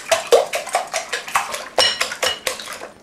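Eight whole eggs and four yolks beaten in a bowl: a quick run of sharp whisk or utensil clinks against the bowl, close up and alone, in an irregular rhythm.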